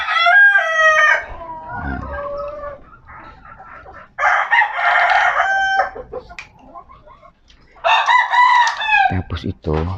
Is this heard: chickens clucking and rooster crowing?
yes